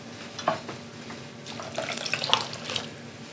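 Rice vinegar and water pour into a bowl in a fire station kitchen, a soft splashing trickle with a few clinks, fairly quiet and steady, swelling toward the end.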